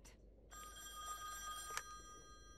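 Within The Wolf Among Us game, a phone starts ringing after half a second, a continuous trilling bell held steadily through the rest of the moment at low, even volume with no talking.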